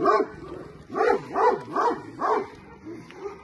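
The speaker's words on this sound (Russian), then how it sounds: "это две собаки" Two dogs bark in a rapid run of about five or six loud, close, yappy woofs in a steady rhythm, then a short pause before a softer final yip, with no talking over them.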